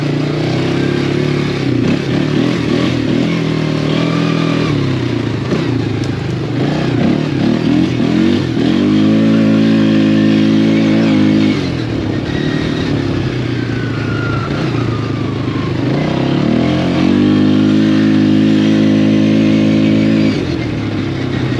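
A Polaris Scrambler 500 H.O. ATV engine drones steadily while riding, loud and close, with its pitch rising and holding as the throttle opens around the middle and again near the end.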